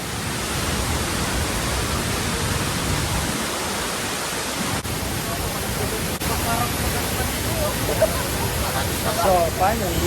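The strong flow of Taytay Falls in Majayjay, Laguna makes a dense, constant roar of falling water throughout, with faint voices under it near the end.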